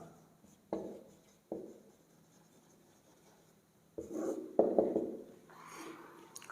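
Trigonometry formulas are written on a board in separate scratchy strokes, a few isolated marks and then a denser run of writing, close and fairly quiet.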